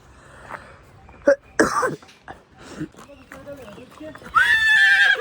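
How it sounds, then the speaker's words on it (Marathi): An excited horse neighs loudly near the end, a long shrill whinny, after snorts and coughing sounds during a horse-riding outing, with people talking around it. "मी जसे घोडे बघितले इकडचे, त्याची अंगातली मस्ती चालू झाली आता"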